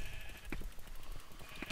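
Faint bleats of sheep in a multiplayer arcade video game, a couple of short calls heard against a busy, noisy game background.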